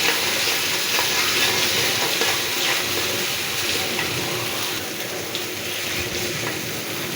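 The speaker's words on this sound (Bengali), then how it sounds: "এইভাবে মশলাগুলো ভাজবেন সুন্দর করে, যেন পুড়ে না যায়।" Spices frying in a hot pan while being stirred, a steady broadband sizzle with scraping stir strokes throughout, close and loud, no talking.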